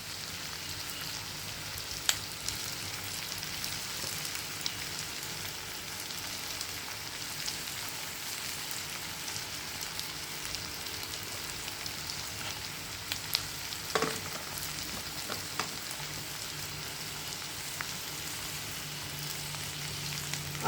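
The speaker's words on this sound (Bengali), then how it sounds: "ভালো করে কষিয়ে নিচ্ছি।" Spices and tomato sautéing in a pan, a soft continuous sizzle with occasional faint clicks and scrapes of stirring, fairly quiet and with no one speaking.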